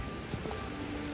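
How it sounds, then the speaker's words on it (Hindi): Rain falls steadily as a soft, even wash of patter, faint and continuous with no voices over it. "बारिश पड़ गई देखो"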